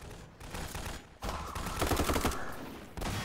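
Rapid bursts of gunfire in Garry's Mod, a dense volley of shots with a brief gap between bursts, loud and up front.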